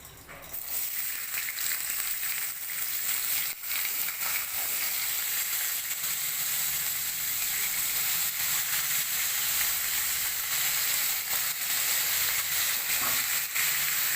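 Okra and vegetables frying in hot mustard oil in a wok, a loud steady sizzle and hiss that holds unbroken for the whole stretch, close up with no talking.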